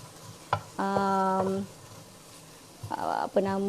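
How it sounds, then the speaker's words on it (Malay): Lightly crushed garlic sizzles and fries in a small amount of hot oil, a steady crackling hiss with occasional stirring scrapes, partly under a speaking voice. "So saya akan tumiskan"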